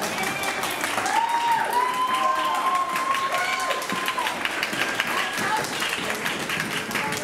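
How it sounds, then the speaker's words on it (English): A ballroom audience at a Latin dance scholarship event claps for the dancers in sustained, dense applause with some cheering. The clapping runs loud and continuous throughout. "Of applause for our dancers."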